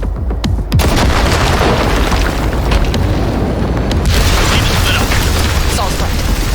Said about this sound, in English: there's a monster gate that needs to be blown open